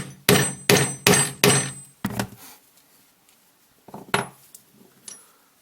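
A hammer strikes an eyelet setting tool to punch a grommet, giving four loud rapid metallic blows, then a softer hit, a pause and a few lighter taps, with no one talking.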